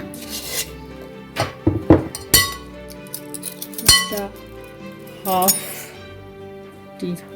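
Funnel cake batter mixed in a bowl, with a spoon or whisk clinking and scraping against the side in short, uneven bursts. A voice speaks between the clatters at close range.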